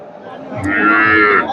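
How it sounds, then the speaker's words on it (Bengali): A native-breed cow moos loudly and steadily in one long, drawn-out call, with faint background noise underneath, at a cattle market in Bogura. "দেশি গাভী বাচ্চা"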